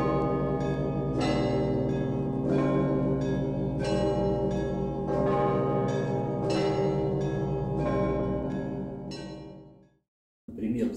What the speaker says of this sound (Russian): колокола начинают свое звучание